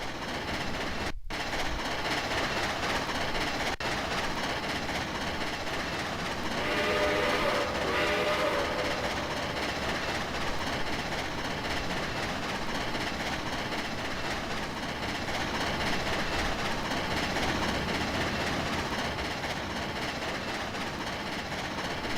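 A freight train hauling coal hoppers in the Trainz railway simulator game rumbles along in a steady continuous roar with rail noise and a brief horn-like tone, no talking over it.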